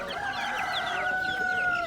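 Chickens and other fowl cluck and cheep close by at a busy poultry market selling chicks, ducks and geese, forming a steady, dense chorus of bird calls with no talking.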